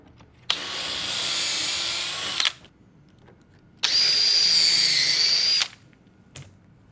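A power drill drives pocket screws into cellular PVC window trim in two strong bursts of roughly two seconds each, separated by a short pause, with a brief final blip at the end.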